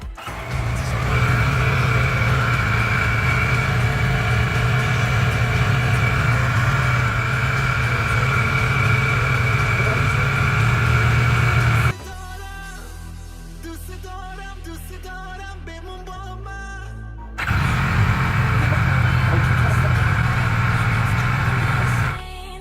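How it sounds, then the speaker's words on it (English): A 2012 Kawasaki ER6N motorcycle engine idles steadily after an oil and filter change, a close, even hum that cuts out midway for a few seconds of tonal music before resuming. "we need to run the engine and take a double check"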